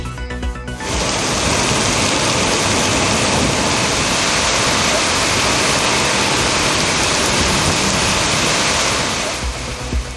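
Heavy rain with strong gusty winds in Chengalpattu district, a dense, loud, continuous roar of downpour that starts abruptly and holds steady, with no voices.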